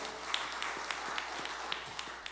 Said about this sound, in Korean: 우리 생명 되신 주님께 박수로 영광 올려드리겠습니다